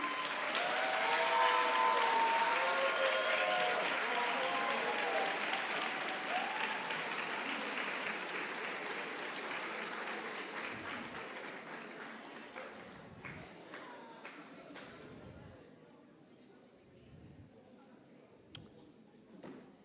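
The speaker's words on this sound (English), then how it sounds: "Let's give a round of applause to all of our esteemed guests as they walk into the room." Applause from an audience greeting esteemed guests as they walk into a room at a formal event, loud and dense at first, then thinning gradually into scattered claps and room noise with faint voices.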